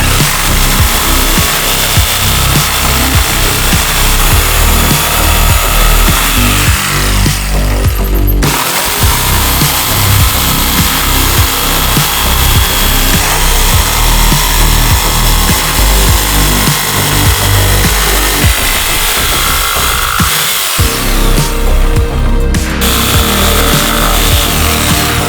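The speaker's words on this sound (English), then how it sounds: "Got the jigsaw." A jigsaw cuts a part for a Supra build in a loud, continuous buzzing rasp up close, with two brief pauses before cutting resumes.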